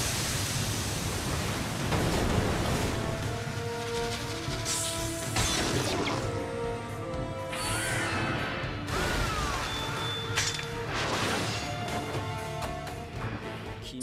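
A giant Water Style shockwave jutsu from the Naruto anime surges as a loud, continuous roar of crashing water, with heavy splashes and impacts rising and falling throughout while a voice speaks over it.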